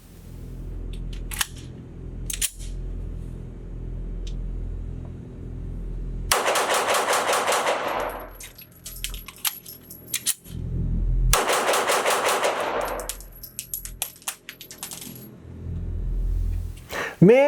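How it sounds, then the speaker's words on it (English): A CZ 75 B Omega Tactical pistol fired rapidly at a range: two long, loud strings of sharp shots split by a quick magazine change, with scattered single shots and clicks around them. "can I shoot this gun pretty darn fast and pretty accurate, and that was a very, very fast magazine change"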